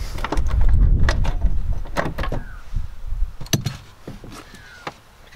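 Work on a Toyota Corolla AE95 as a car door is unbolted and lifted off: close metallic clunks, knocks and rattles with tool sounds, busy at first and then sparser, with no talking.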